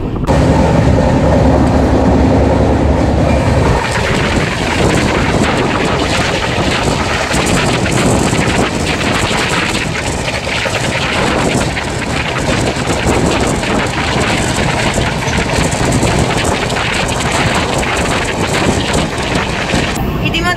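The Garib Rath Express AC train runs between Kolkata and Guwahati, with a loud, constant rolling roar and rhythmic wheel clatter mixed with wind noise across the whole stretch.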